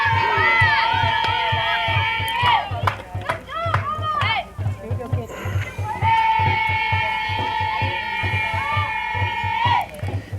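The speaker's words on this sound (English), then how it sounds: "Team trying to cheer on Weber." A softball team in a Lamar CC versus Luna CC college game shouts and chants rhythmically to cheer on their batter, with loud, repeated group yells in bursts from the dugout and a commentator talking over them.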